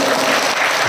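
Congregation at a parish retreat claps together in a short, dense wash of applause, fairly loud and even throughout.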